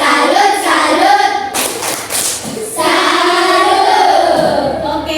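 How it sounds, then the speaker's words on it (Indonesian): Classroom of children clapping in unison to a rhythmic chant, loud and close, with young voices chanting over the claps and a sharp burst of clapping in the middle. "Tepuk tangan untuk kita semua"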